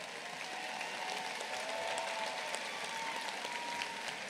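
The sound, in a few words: audience applause at commencement ceremony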